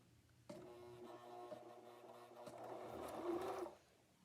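A sewing machine stitches slowly along the edge of fabric, a close, steady mechanical hum with a rhythmic needle patter that picks up slightly before stopping, with no talking.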